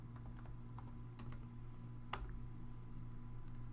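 Someone types a command on a computer keyboard while installing Arch Linux, producing a quick series of light, close key clicks with one sharper tap, over a steady low electrical hum.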